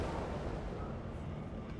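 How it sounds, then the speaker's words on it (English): Fiery burst in the fantasy RPG Divinity: Original Sin 2, a dense continuous rumbling roar with crackle, steady and moderately loud, with no talking. "Oh, that's fire."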